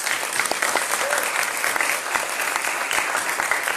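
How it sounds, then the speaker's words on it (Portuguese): Sustained applause from an audience after an evening lecture. Dense, steady clapping fills the whole stretch at a fairly close, even level, with no speech over it. "Gostaria de pedir novamente um grande aplauso para o nosso"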